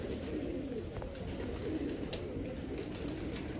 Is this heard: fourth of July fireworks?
no